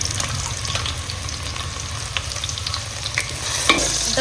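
Onion tempering frying in a pan in a village kitchen, a continuous close sizzle with crackles and occasional stirring clinks, no talk.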